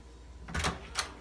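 Two car doors opening one after the other, a muffled clunk followed by a sharper click, heard close and fairly quiet with no voices.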